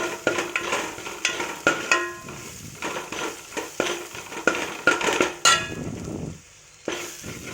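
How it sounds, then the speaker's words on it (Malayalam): Two tablespoons of dried red chillies fry in hot oil while a spoon stirs, giving repeated clattering scrapes against the pan over a steady sizzle, with a brief pause near the end. "രണ്ട് ടേബിൾ സ്പൂൺ വറ്റ വറ്റൽമുളകാണ് എടുത്തിരിക്കുന്നത് അതൊന്ന് ഒരു മിനിറ്റ് ഈ എണ്ണയിലിട്ടൊന്ന് മൂപ്പിക്കണം"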